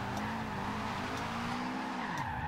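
A tuned Subaru Impreza WRX STI drift build sliding in Forza Horizon 2, a steady loud engine drone with sustained tire squeal and skidding that shifts pitch as the car holds its drift.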